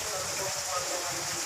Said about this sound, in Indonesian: Hari ini cuaca hujan lebat ya.